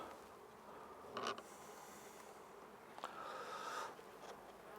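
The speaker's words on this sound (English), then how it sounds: "the bees feeding on the fondant in the feeder, doing really nicely" A soft, steady insect hum of honeybees feeding on fondant in a feeder, buzzing close by, with a few brief louder bursts and rustles.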